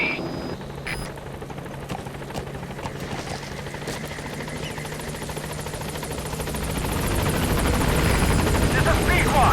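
Helicopter in Metal Gear Solid 5 arriving at the landing zone on PS5, a steady rotor drone under game noise that grows louder toward the end, with voices talking over it.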